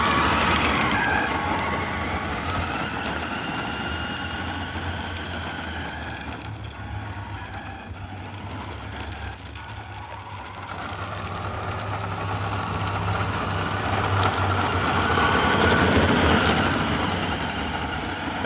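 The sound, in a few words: New Bright Cadillac Escalade RC car motor driving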